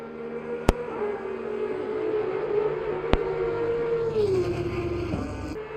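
Race car engine in Assetto Corsa Competizione at the Nürburgring GP, a steady sustained drone at high revs that holds its pitch then drops near the end, with two sharp clicks and faint higher-pitched whine layered in.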